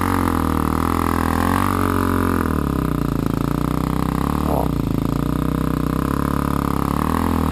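DRZ400 dirt bikes climbing a hill, their engines droning loud and constant, pitch rising and falling slightly as the riders work the throttle, up close and without speech.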